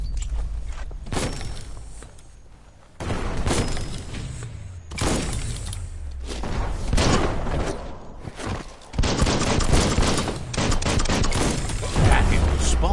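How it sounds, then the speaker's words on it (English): Bomb lobber firing in the video game Biomutant: a run of heavy thumping blasts and crashing impacts, loud and close, with game effects and footsteps between shots. "It's a bomb lobber."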